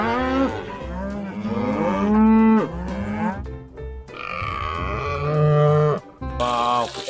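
A horned cow moos several times in a row, loud and close, with long drawn-out lowing calls separated by short pauses.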